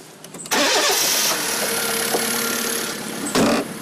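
A broken-down car is started again after a roadside assistance repair. The starter cranks briefly, then the engine catches and settles into a loud, steady idle close by, with no talk.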